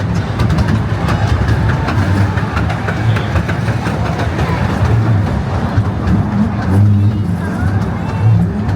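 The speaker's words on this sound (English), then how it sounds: "this is a much shorter train ride" Short theme park train ride on opening day at Drayton Manor, a continuous low rumble with rhythmic clickety-clack of wheels on track, with a voice talking over it.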